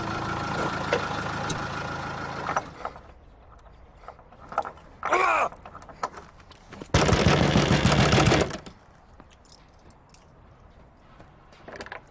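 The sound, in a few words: banging on a door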